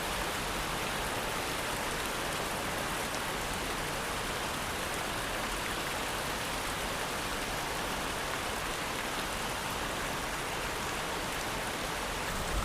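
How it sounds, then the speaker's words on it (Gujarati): The season's first rain falls steadily at night, a dense, even hiss of drops continuing without pause at a moderate, distant level. "સિઝનનો પહેલો વરસાદ અગર રાત્રે 1:30 વાગે પણ આવે છે"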